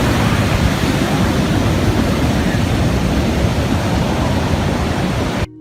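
Huge waves crash and explode against rocks, sending white water high into the air, heard as a loud, continuous roar of surf that fills the whole stretch and cuts off abruptly at the end.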